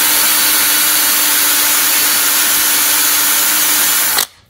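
A power drill bores out rivets in thick metal during RV construction: a loud, steady, close whine with a constant tone that runs for about four seconds, then stops abruptly.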